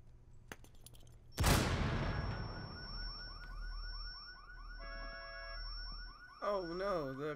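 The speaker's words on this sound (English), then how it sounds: "Oh no, the car alarm is on." A car alarm blares in Rainbow Six Siege after a loud gunshot-like bang, its repeating electronic whoops and wavering siren tones cycling steadily, with a brief voice in the background.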